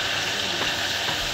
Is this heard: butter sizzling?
yes